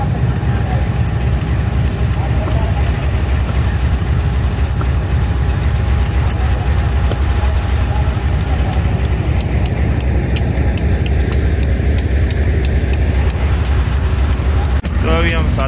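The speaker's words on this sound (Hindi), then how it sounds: "जा रहे हैं वलार की तरफ लाइट इंजन" A railway light engine locomotive runs toward Valar station, a steady loud rumble of wheels and engine with rhythmic rail clatter throughout, close by, with a brief squeal near the end.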